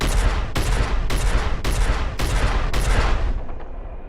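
Ship guns on a Starfarer blast at pirates in Star Citizen, six loud, evenly spaced heavy shots roughly half a second apart, each with a booming tail that fades at the end.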